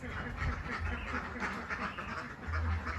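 Laying ducks on a duck farm quack in a steady chorus of low, repeated calls at moderate distance, continuous throughout with a busy flock murmur behind them.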